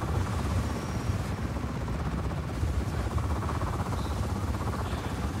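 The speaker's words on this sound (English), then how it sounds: "I don't know if I'll be able to do it in the chopper." A helicopter flies in the video game Just Cause 4, its rotor chop and engine roar forming a dense, constant drone at close range with no break.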